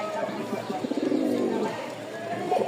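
A male racing pigeon coos in soft, low, rolling pulses, close by, mixed with brief human voice fragments and faint background noise.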